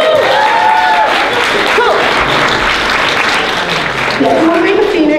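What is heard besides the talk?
audience applause at charity auction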